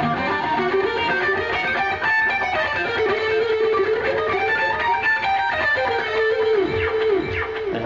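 Guitar playing a dissonant harmonic minor scale high up the fretboard, slightly distorted, with a run of ringing notes and bends rising and falling over several seconds, heard alone.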